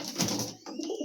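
A large pigeon coos nearby, a soft low burbling call lasting about a second, heard on its own in a pigeon house.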